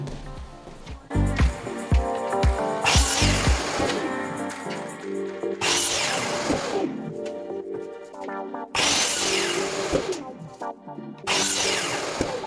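Moulding trim is cut at 45-degree angles for an indoor installation, several separate bursts of whining, buzzing power-tool cutting broken by short pauses, each loud and close.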